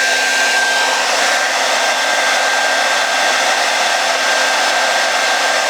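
A cheap hair dryer blows steadily on a higher setting, about 1,000 watts, a loud, constant whooshing hum with a faint high whine that holds unchanged throughout.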